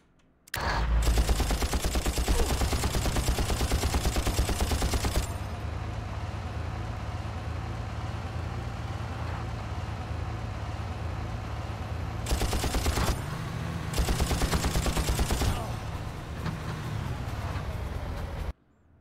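Sustained automatic gunfire from enemies in Far Cry 1, loud rapid bursts of rattling shots with an engine drone underneath, pausing briefly before fresh volleys resume.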